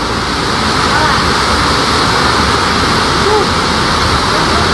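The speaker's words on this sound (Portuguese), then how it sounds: "Imagens registradas no local mostram a água invadindo salas de atendimento e a área de recepção." Floodwater rushes in a loud, unbroken roar that fills the whole stretch as extreme rain sends a torrent into a health clinic, with faint voices buried beneath it.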